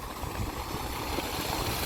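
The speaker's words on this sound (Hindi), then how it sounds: "इतना पानी चलता ही रहता है।" Steady flowing water at a canal or plant works along the Narmada riverside, a continuous broadband rush heard close and moderately loud with no talk.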